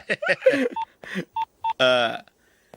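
Mobile phone keypad tones beep as a number is dialled to call a police station, several short evenly pitched beeps in a quick row, heard close between bursts of dialogue in a Telugu film scene, then a longer rising tone at the end.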